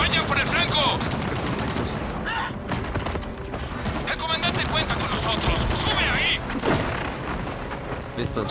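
Machine gun nests firing in Gears of War 4, heavy continuous automatic gunfire with scattered booms and impacts filling the whole stretch, loud and dense, while voices shout over the battle.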